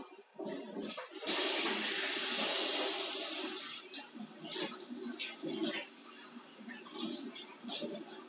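Food being rinsed under a kitchen tap, a close, steady gush of running water for a couple of seconds followed by softer splashing and intermittent handling noises.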